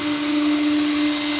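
A drill bit sharpener with a stone fitted to an electric drill runs with a loud, steady motor whine and a strong tonal hum, continuous and close, with no voices.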